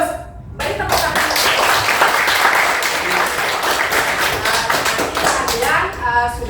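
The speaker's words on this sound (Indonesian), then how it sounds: "Beri tepuk tangan." A classroom of students claps together in a dense, loud burst of rapid hand claps lasting several seconds before fading.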